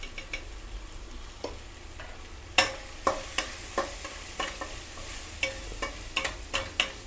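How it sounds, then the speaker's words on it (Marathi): Onion and tomato with turmeric cook in a pan under a soft sizzle, while a spatula scrapes and taps the pan in repeated sharp knocks, more frequent in the second half. No one speaks. "कांदा आणि टॅमॅटो सॉफ्ट करून घ्यायचं आपल्याला"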